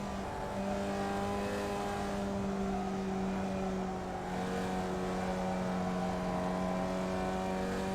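A Formula Vee race car engine at Lime Rock Park in iRacing hums steadily at sustained revs, a continuous buzzy drone with slight pitch shifts as the car circulates, heard alone and fairly quiet.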